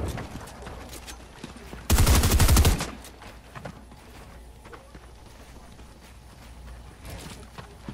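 Rapid gunfire aimed at a player's aircraft in Polar Patroller, one loud burst of about a second standing out over busy game noise, with someone talking.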